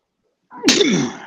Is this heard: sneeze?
yes